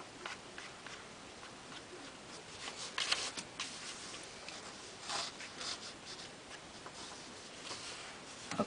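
A popsicle stick or bone folder spreads and smooths shaving cream, giving a soft, steady rubbing and scraping texture with slightly louder strokes now and then, close and quiet with no talking.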